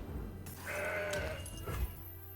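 A goat from the Legends of Runeterra card game lets out a single drawn-out, wavering bleat, clear and close, with no voices.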